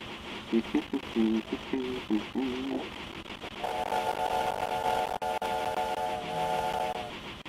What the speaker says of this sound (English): I like how it has a dynamic whistle